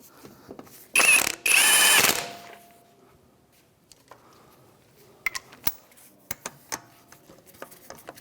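A ratchet wrench with a 17mm socket tightens brake caliper bolts on a 2007-2013 Mitsubishi Outlander: two loud, close bursts of rapid ratcheting, then a quieter stretch of scattered sharp clicks and taps.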